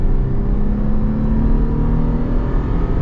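A lifted fifth-generation Toyota 4Runner with a V6 and five-speed automatic accelerating, heard as a steady, loud engine drone with road and wind noise and no speech.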